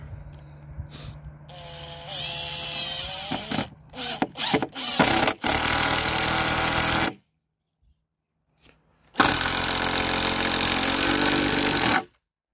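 A power screwdriver or drill drives screws while assembling a long garden bed frame from 10x10 posts, with several short whirring bursts, then two long, loud, steady runs separated by a silent pause.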